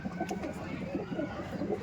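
KGN pigeons, a pure fresh breeding pair kept at a home loft, cooing in soft repeated low murmurs that overlap close by for the whole stretch.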